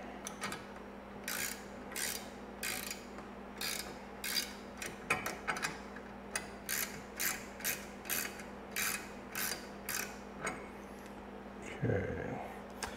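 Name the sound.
ratchet tightening awning mount bracket on Raptor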